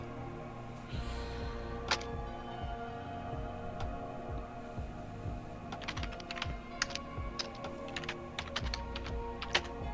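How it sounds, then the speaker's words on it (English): Steady typing on a computer keyboard at close range, a continuous patter of key clicks over a constant background hum, with quick bursts of louder keystrokes toward the end. "Ooh, this keyboard is way different than I expected."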